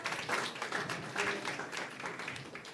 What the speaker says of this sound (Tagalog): Palakpak ng taong pinalaya ng totoo ni Lord.